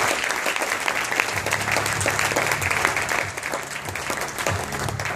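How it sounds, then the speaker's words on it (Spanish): Loud, sustained clapping from a packed workshop audience fills the room, an even roar of many hands with scattered shouts beneath it throughout. "por favor, un fuerte aplauso para él"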